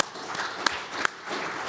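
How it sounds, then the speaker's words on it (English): Conference audience applauds a panel after a session on collaborative full-scale exercises, a soft, steady patter of many hands from across the room with a couple of sharper, nearer claps standing out. "let's give a round of applause to the panel"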